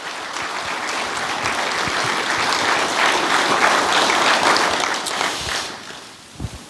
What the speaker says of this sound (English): round of applause for all of our honorees